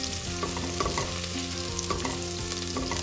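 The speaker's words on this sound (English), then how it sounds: "Now that the oil is heated well, let's add our garlic." Chopped garlic sizzling in well-heated oil for a pasta sauce, a dense crackling fry with the scrape and clatter of a spoon stirring the pan, close and continuous with no talk.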